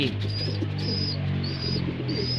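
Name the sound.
young racing pigeon squeaking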